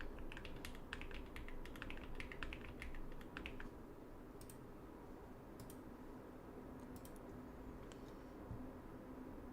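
A Bubble 75 mechanical keyboard with Aqua King switches gives a quick run of soft, close keystroke clicks, then sparse scattered taps over steady low background hiss.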